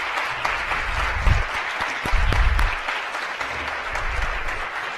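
Steady applause from a conference audience at a women's leadership event, a close, even patter of many hands clapping, swelling slightly a couple of times over five seconds.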